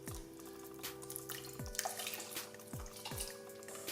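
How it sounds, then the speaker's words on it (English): About two cups of water pour into a cooking pot of mashed ripe bananas for a Samoan suafa'i: a faint, steady trickle, with a recurring drip-like plop roughly every three-quarters of a second. "we will add about 2 cups of water"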